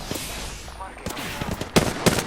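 Gunfire in the battle royale game Apex Legends, a few sharp reports scattered over steady game ambience, with two louder bursts near the end.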